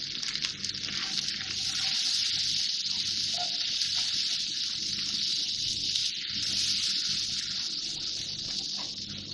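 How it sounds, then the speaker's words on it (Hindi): Spices frying in a pan with a splash of added water, a steady loud sizzling hiss that continues without a break, close up in a home kitchen while making butter chicken. "थोड़ा सा 1 टेबल स्पून पानी डाल के भून रही हूँ ताकि मसाले जले नहीं।"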